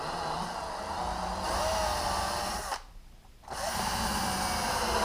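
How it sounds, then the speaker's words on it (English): A power drill spins a sharpened Jack Rabbit countersink bit, giving a steady whirring drone that briefly drops out before resuming, heard close with no talking. "Watch the countersink. That goes in no problem."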